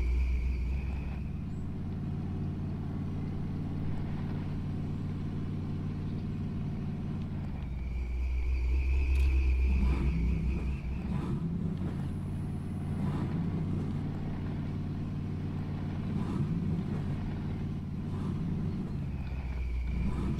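A truck in the SnowRunner video game, buried deep in mud, its engine droning low and steady and surging louder in strained bursts as it struggles, with no one talking.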